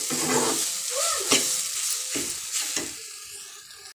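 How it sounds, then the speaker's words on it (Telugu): Grated coconut fries in a pan for a carrot and beans curry, a soft sizzle broken by several distinct scraping stirs of a spoon, close by. "కొబ్బరి ఇలా ఒక ఫైవ్ మినిట్స్ ఫ్రై అయ్యిందండి"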